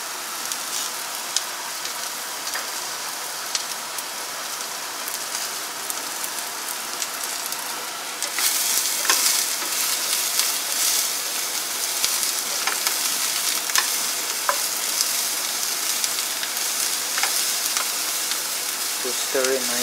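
Onion and garlic fry in hot oil while being stirred, a dense, continuous sizzle close by that grows noticeably louder partway through, with occasional scraping and clinks.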